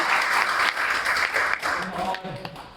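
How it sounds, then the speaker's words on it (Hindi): An audience at a Hindi play staged for Hindi Pakhwada 2024 applauds the actors: dense, steady clapping from many hands that holds strong for a few seconds, then thins and tapers, with some voices mixed in. "मैं चाहूंगा कि एक बार जोर से तालियां बजाएं।"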